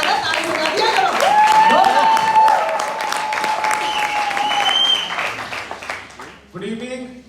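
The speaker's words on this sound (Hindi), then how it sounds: "ताली बजा दिया करो" Audience applause at a theatre festival conversation event, steady clapping throughout with a sustained tone and crowd noise, fading near the end before a brief voice.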